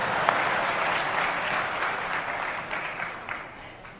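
An audience at a Swaminarayan religious discourse claps steadily, a dense sustained round of applause from many hands in a hall, loud and continuous for several seconds.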